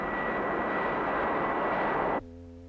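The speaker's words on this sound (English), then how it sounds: "With a 40 miles per hour crosswind produced by a powerful jet engine" A powerful jet engine blasting a 40 mph crosswind for car testing gives a loud, sustained roar with a steady whine that cuts off abruptly near the end, leaving a quieter lingering hum.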